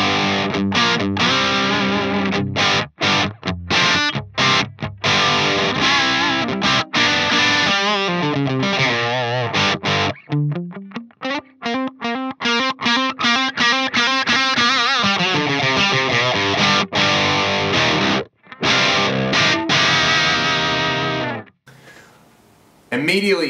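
An electric guitar on an amplifier's overdrive channel, with the gain at 2, runs through a Fractal X-Load with a CabLab impulse by Justin York, playing distorted chords and riffs with abrupt stops and picked passages, loud and close.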